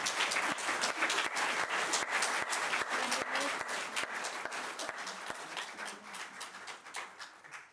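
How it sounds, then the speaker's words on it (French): Applause from an audience at an introductory session, a dense burst of many hands clapping that starts loud and gradually thins and fades toward the end. "J'aimerais bien qu'on prenne le temps de les applaudir pour une fois."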